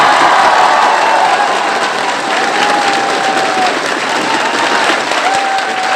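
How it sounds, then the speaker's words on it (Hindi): An audience at a poetry recital, a kavi sammelan, claps in loud, dense, sustained applause that fills the whole stretch without a break, with faint tonal whistles drifting through. "ताली इतनी जबरदस्त बजा के देखा।"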